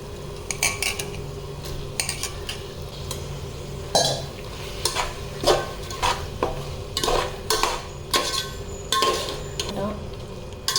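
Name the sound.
chicken added to pan, frying with leaves for biryani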